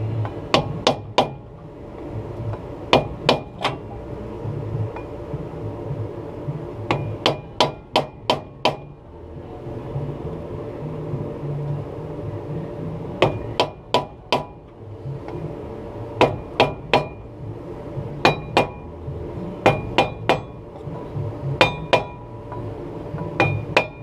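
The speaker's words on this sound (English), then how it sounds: "next you want to kind of tap the rotor to make sure that it comes loose." A hammer taps repeatedly on a rusted, corroded brake rotor on a Silverado front hub, with sharp metallic strikes coming in quick clusters of three or four and short pauses between them, close and loud with no talk.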